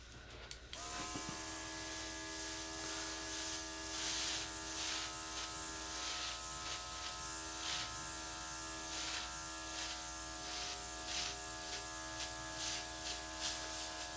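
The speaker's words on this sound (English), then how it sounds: "I'm just going to blow it out with my airbrush." An airbrush blows leftover acrylic paint across an abstract flip-cup pour, producing a steady close hiss with a faint buzzing hum that starts abruptly and continues unbroken.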